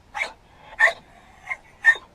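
Dog gives four short, high yips and whines spaced about half a second apart, close and fairly loud over a quiet background.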